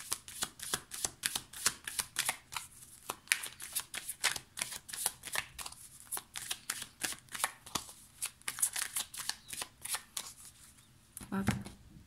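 Tarot cards shuffled by hand, a rapid run of crisp riffling flicks in an even rhythm close by, ending with a soft thump near the end, with no voice over it.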